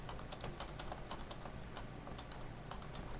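Typing on a computer keyboard, with quick irregular key taps in a steady stream, close and clear over a constant low background noise, and no one speaking.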